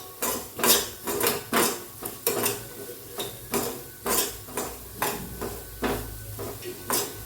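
Wheat dalia with finely chopped dry fruits is stirred in a pan, a spoon clinking and scraping against the metal in steady, regular strokes, close and fairly loud, with no talking.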